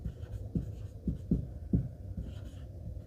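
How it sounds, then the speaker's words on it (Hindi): A pen writes numbers by hand on paper during a Class 6 maths lesson, giving a few soft, brief strokes at an uneven pace that stay faint and close over a low room hum. "यहाँ लिख देता हूँ"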